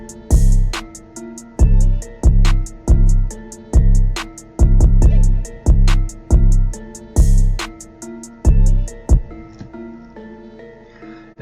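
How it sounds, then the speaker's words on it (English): Basic drum pattern loop playing in FL Studio 20, with punchy booming kicks, crisp snares and rapid hi-hats repeating in a steady groove for about nine seconds before stopping, loud and alone. "So we're going to have like a real basic drum pattern,"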